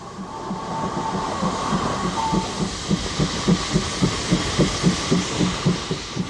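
A steam locomotive train rumbles steadily past, running bunker first, its wheels beating out a regular, rhythmic clatter that grows slightly more pronounced as it goes.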